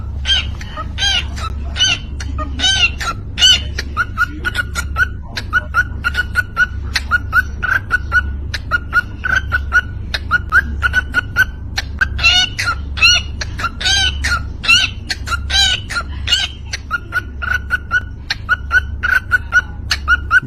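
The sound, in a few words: beatboxing bird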